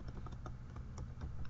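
Keys clatter on a computer keyboard as an email address is entered during account setup, a quick irregular run of close, light clicks over a low steady hum.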